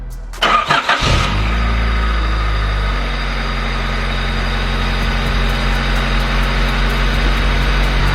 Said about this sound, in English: let's go ahead and see how this thing sounds like.